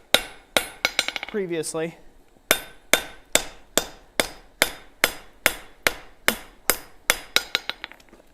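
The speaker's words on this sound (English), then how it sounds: "Once I'm done hammering it here" A forging hammer rings out on hot metal while a bevel is shaped, about fifteen sharp, evenly spaced metallic strikes close by, with a brief ringing pause near the start.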